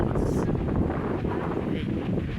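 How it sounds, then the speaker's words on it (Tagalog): Strong wind and rain buffet a microphone outdoors, a loud, continuous low rumble of gusts with a steady hiss of rain over it, smothering the whole short stretch. "Lakas ng hangin, pati ulan pala, malakas."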